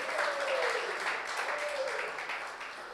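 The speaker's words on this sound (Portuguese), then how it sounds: "dê um grito de júbilo, dê um aplauso a Jesus" A church congregation applauds and cheers together, a steady broadband wash of clapping over nearly three seconds with a faint voice rising beneath it, loud and close throughout.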